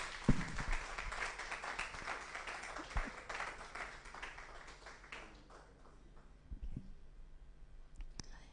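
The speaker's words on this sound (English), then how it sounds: "A round of applause for him, please." Audience applause for a speaker at a formal talk on women's empowerment and the UN, moderate clapping that fades out after about five seconds, leaving faint room noise and a few isolated sounds.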